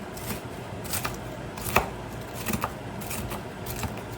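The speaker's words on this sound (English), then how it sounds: "Just cut them up to nice little crumbs. Bacon bits." Fried bacon being chopped into small bits with a knife on a board, a series of irregular sharp knocks over a quiet background, close and distinct.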